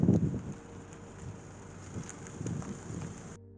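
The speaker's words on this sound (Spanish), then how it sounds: "En plena tormenta eléctrica y nos vamos a meter ahí." A night thunderstorm pours steady rain with low thunder rumbles rolling in and out, loud at first and then settling into a continuous wash before cutting off.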